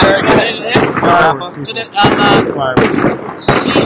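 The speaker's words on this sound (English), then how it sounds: "Those are beautiful fireworks." Fireworks burst in a rapid series of sharp, loud explosions with crackling tails, several bangs spaced across the clip, heard close and without clear talk over them.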